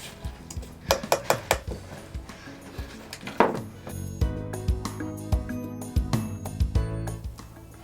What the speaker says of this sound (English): I'm gonna mix until everything's good and incorporated here